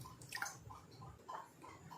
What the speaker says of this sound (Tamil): அந்த டம்ளர்லேயே அரை டம்ளர் தண்ணி விட்டுக்கலாம்